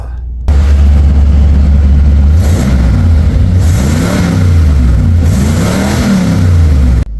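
A carbureted Chevrolet Camaro engine catches on a freezing cold start and is revved repeatedly, loud close-up rumbling that swells and dips in several throttle blips over a steady idle.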